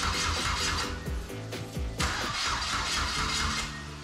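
A GM Ecotec engine swapped into a Mazda Miata cranks and catches, the starter churning rhythmically for about two seconds before the engine fires and runs roughly, loud and close, with no voices.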